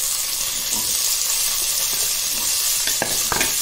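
Onions sizzle in hot oil for appalam kootu, with a steady frying hiss and a few stirring scrapes near the end. No one talks.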